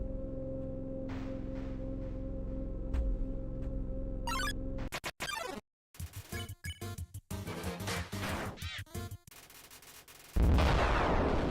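An explosion in the Undertale video game: a burst of harsh crackling noise and sharp blasts after a low sustained drone, ending in a loud rumbling wash.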